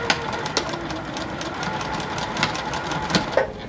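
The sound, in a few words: sewing machine back-stitching a quilt pleat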